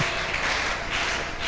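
A church congregation applauding during an evening worship service, a fairly quiet, continuous patter of many clapping hands that holds evenly throughout with no clear talk on top.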